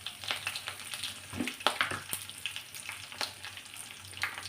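Curry leaves hit hot tempering oil with a quiet, crackling sizzle, scattered sharp spits and pops over a low steady hiss, heard up close without speech.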